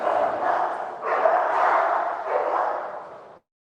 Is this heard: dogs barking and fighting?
yes